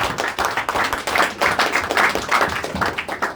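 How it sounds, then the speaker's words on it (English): Audience at a youth-wing party evening hosting the Speaker claps for the Speaker, a dense run of hand claps that stays loud and steady from start to finish with no talk over it. "Please let us give our mommy, Madam Speaker, a big round of applause."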